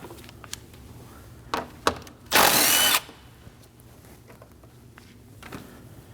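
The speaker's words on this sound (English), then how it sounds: "Using a 10mm socket, go ahead and remove this bolt." A bolt on a 2011-2016 Kia Optima 2.4L is loosened with a 10mm socket during AC condenser replacement: a few scattered clicks and knocks, then a loud ratcheting burst of about half a second, with faint mechanical ticks after.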